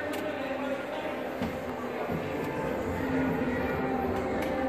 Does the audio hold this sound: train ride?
yes